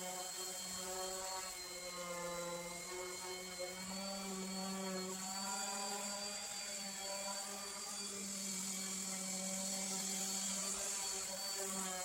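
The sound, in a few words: sanding an exterior wood finish with 120 grit sandpaper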